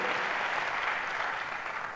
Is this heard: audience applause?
yes